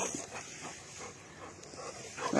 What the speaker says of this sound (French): Oh là là, ça c'est un chien joueur.